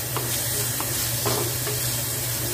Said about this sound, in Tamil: அதில் மொச்சையை பொறிச்சு எடுத்துக்கலாம்